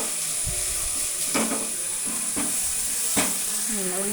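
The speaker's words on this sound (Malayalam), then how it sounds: "കഷ്ണം തക്കാളി എല്ലാം ഇട്ട് വാട്ടുകയാണ്" Tomato pieces sautéing in a hot pan for quick noodles give off a steady, close sizzle and hiss, broken by a few soft clatters of stirring.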